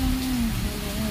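Heavy rain pours down at night in a steady, dense hiss with no break, close and loud, and no other sounds stand out.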